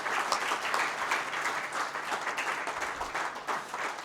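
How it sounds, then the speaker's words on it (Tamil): Audience at a Tamil book talk breaks into sustained applause, a fairly quiet, even roar of many hands clapping throughout with no speech on top. "இந்த கரகோஷமோ"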